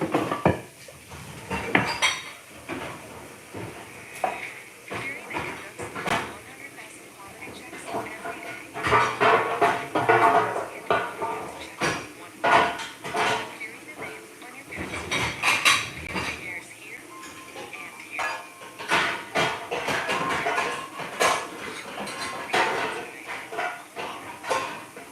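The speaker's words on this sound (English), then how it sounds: "Let's put up these last dishes that we've just used in our dishwasher." Used dishes, pots and cutlery are loaded into a kitchen dishwasher: repeated clinks, clatters and rack creaks in irregular bursts, nearby and moderately loud, with some talk between.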